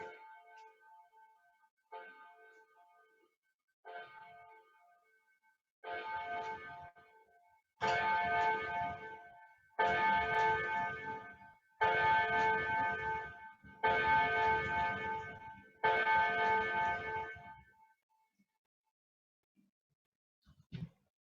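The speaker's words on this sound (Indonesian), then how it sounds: "Nah, ada bel ini agak lama. Kita tunggu belnya hilang dulu." Old antique clock chiming a long series of bell strikes, each ringing tone sustained then cut off, growing louder after the first few and repeating about every two seconds before stopping, heard alone in a quiet room.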